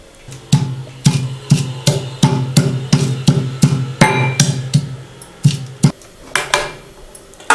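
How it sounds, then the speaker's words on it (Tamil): Steady, sharp knocks of cloves, fennel, cinnamon and cardamom being pounded together with a stone, about two hits per second, close and loud with no talking. "லவங்கம், சோம்பு, பட்டை, ஏலக்காய் 4ம் தட்ட போகிறோம்"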